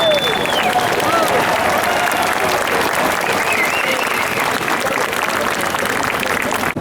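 Outdoor crowd at a D-Day anniversary event in Sainte-Mère-Église applauding a paratrooper landing, a dense, sustained burst of clapping that stays loud and steady throughout, with chatter mixed in.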